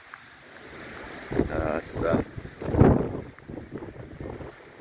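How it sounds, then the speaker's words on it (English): Wind gusts buffet the microphone at an outdoor cricket ground during a grand final, a rumbling low roar swelling and fading in several surges while someone speaks briefly. "Very windy here today."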